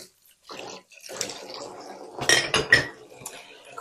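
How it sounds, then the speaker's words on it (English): Washing up dishes and cutlery by hand, a short burst of clattering crockery, scraping and clinking metal with splashes of water, close and uneven, a couple of louder clanks near the end. "Figure I've got 2 minutes to do a bit of washing up before the potato is cooked."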